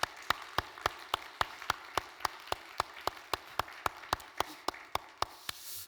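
A church congregation applauds in brief encouragement of its worship volunteers, steady sharp claps in a regular rhythm across the hall, moderately loud, with no talking over it.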